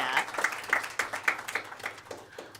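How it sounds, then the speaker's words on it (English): Applause at a state legislative subcommittee hearing on human services budgets, a modest round of clapping from a small group, close and steady with rhythmic claps fading slightly toward the end. "We can give a big round of applause here to Mr. Kucera for getting us through that."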